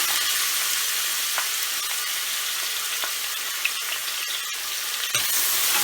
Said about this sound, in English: After adding cumin seed and pinch of hing, asafoetida, I'm going to add our finely chopped onion.